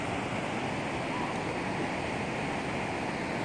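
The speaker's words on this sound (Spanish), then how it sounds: "Estamos desde el puente observando los rápidos." Roaring river rapids of the Río Cangrejal seen from a bridge, a constant loud rushing of whitewater filling the whole clip with no break.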